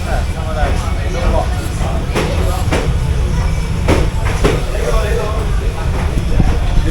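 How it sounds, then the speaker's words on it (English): Long train passing along Hanoi's narrow Train Street, a loud close rumble with rhythmic clacks of wheels over rail joints, continuous and overlaid with crowd voices. "The train is so long. It's crazy how long it is."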